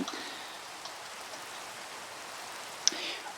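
Steady soft patter of rain in the video game Minecraft, a continuous faint hiss with one brief sharp tick near the end and no talk.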